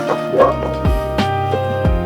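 A dog barks and yips in the background, several short calls spaced irregularly over a steady tonal hum, fairly clear and mid-distance, with no speech over it.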